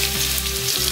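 Minced garlic and dried chili peppers frying in hot oil, giving a steady, close sizzle and crackle with no voices.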